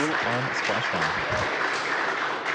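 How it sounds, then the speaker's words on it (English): Applause from a room full of people as the SpaceX Crew-1 capsule returns, with a voice talking over it in the first half before the clapping continues alone. "And I don't know if you can hear the applause"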